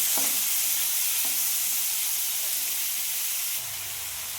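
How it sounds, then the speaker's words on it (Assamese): Beetroot and peas frying in a pan for a mixed vegetable chutney make a steady, even sizzle and hiss from start to finish. A couple of faint stirring knocks come early, with no talk. "বিট দিলোঁ আৰু মটৰ কেইটামান দিলোঁ এইখিনি মই অলপমান সময় ভাজি"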